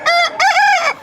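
A chicken from a backyard flock gives a loud, drawn-out call in two close phrases, near and alone, lasting about a second.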